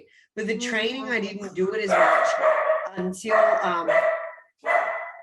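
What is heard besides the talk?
dog barking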